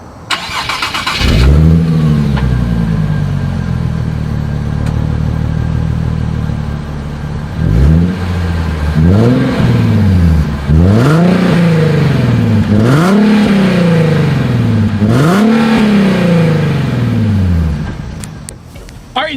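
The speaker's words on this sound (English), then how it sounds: "Here is the 2020 Nissan 370Z exhaust clip." A tuned exhaust on a 2020 Nissan 370Z starts up, idles briefly, then barks through a string of sharp revs that rise and fall in a steady rhythm, loud and close.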